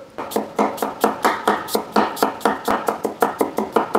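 A knife slices an onion thinly on a board in quick, steady repeated chops, about four to five a second, crisp and close with no pauses.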